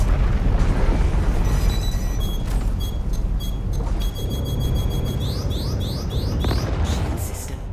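A missile strikes a ship in the Star Citizen space combat game, with a Gray Shiv and a Harbinger involved, producing a continuous roaring, rumbling blast. Sharp electronic blips and tones sound faintly over the din.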